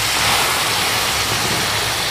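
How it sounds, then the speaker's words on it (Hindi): Spiced masala for mutton tahari hisses loudly in a pan after a splash of water is added, a dense, steady sizzle that fills the whole clip without pause. "अब इसमें 2 टेबल स्पून पानी डाल देंगे"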